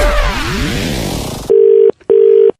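A phone line on a radio prank call: a burst of swept electronic tones gives way to two long steady ringback beeps separated by a short gap, loud and close with no one talking.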